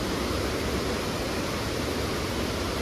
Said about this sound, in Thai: น้ำตกนางรองนะพี่น้องเนาะ